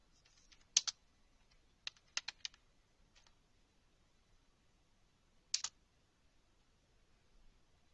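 Computer keyboard being typed on to enter a command in a Windows Server 2008 command prompt, sparse crisp key clicks in a few quick clusters with quiet gaps between them.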